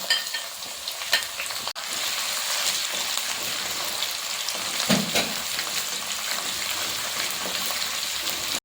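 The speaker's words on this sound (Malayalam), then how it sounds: "ഒരു ഏഴോ എട്ടോ പച്ചമുളക് വട്ടത്തിൽ കട്ട് ചെയ്തത് ആവശ്യത്തിന് കറിവേപ്പിലയും ചേർത്ത് നമുക്കിതെല്ലാം കൂടി നന്നായിട്ടൊന്ന് വഴറ്റിയെടുക്കാം" Onions, sliced green chilies and curry leaves sauté in hot oil for a carrot pickle. The sizzle is a loud, continuous close hiss, with occasional stirring scrapes and knocks.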